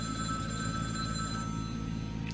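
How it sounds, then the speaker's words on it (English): A telephone rings steadily in The Dream Machine video game, a continuous electronic bell tone over a low game hum, heard alone without voices. "we're just gonna ignore the phone, just leave it ringing"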